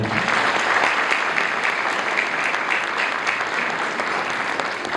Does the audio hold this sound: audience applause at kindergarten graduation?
yes